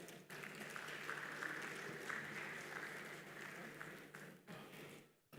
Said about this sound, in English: Please, a round of applause for her as she approaches